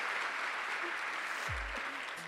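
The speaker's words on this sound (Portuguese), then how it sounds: "Pode dar uma salva de palmas para o meu chefe aí, gente?" An audience claps steadily for a few seconds, a faint, even spatter of applause for the speaker's bosses at a talk.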